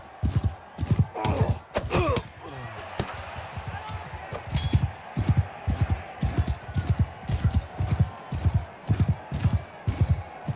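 Horse hooves pounding in the Mount & Blade Bannerlord video game, a fast, regular rhythm of close, thudding beats that continues throughout, with a few brief louder clatters early on.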